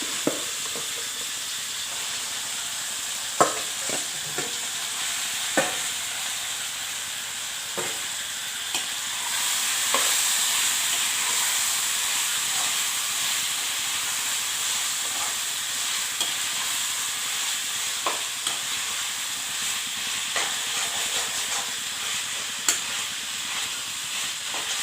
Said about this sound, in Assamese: এতিয়া মই মেৰিনেট কৰা মাংসখিনি ইয়াত